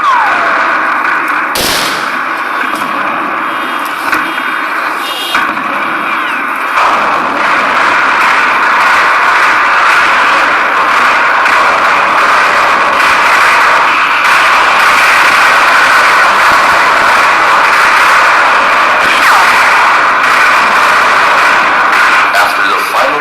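Gunfire and artillery blasts from a reenactment of the 1945 Battle of Manila, sharp bangs and booms scattered over a constant loud rumble, with a spoken voice running over the action.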